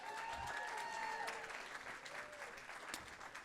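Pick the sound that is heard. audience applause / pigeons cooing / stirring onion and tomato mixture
audience applause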